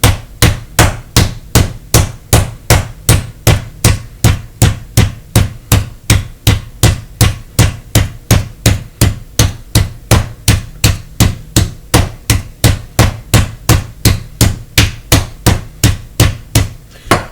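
A mallet pounds meat thin for homemade braciole, striking in a steady, rapid rhythm of roughly three loud, close thuds per second that continue unbroken for over fifteen seconds, with no talking.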